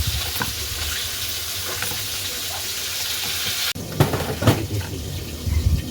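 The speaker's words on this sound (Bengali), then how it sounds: "শাকগুলো আরেকবার ধোবো" Leafy greens rinsed under a steady stream of running tap water in a home kitchen, with a constant close hiss of water and a brief break before louder splashing and handling.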